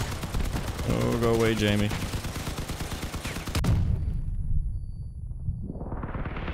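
Vehicle-mounted guns fire in Crossout combat, a dense rapid burst of gunfire running through the first few seconds with a sharp blast partway, under ongoing player talk.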